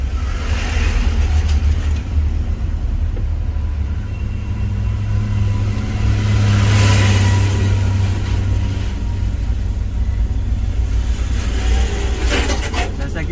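A car creeping along slowly at under 20 km/h in heavy traffic near Omkareshwar, its engine giving a loud, steady low rumble that swells briefly mid-way, heard from inside without talk.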